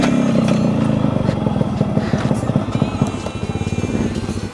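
A fully restored Yamaha RX-100 motorcycle engine runs nearby, its rapid two-stroke putter steady and loud throughout, with voices talking over it.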